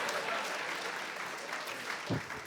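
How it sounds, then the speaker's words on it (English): An audience applauds during a live televised interview with a prime minister, a steady wash of clapping from a crowd with a brief louder thump near the end. "I find it very unwise to applaud before you've heard the line."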